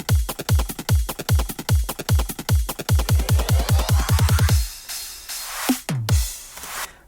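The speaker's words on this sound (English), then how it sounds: "So on the build, the drums sound like this." A drum build of fast, punchy electronic kicks and hits rolls steadily and accelerates, with a ticking 8-bit shaker percussion layer, before breaking into a few sparse closing hits and a noisy swell.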